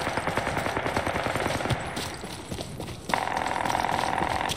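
Automatic gunfire from an Apex Legends match: rapid repeated shots crackle nonstop at close range, growing denser and brighter in the last second and a half, with a few faint voice fragments mixed in.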